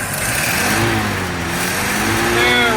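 A 1951 Chevy pickup's engine runs on its rebuilt carburetor, a steady close rumble that swells slightly as it revs, then settles toward idle under a faint voice.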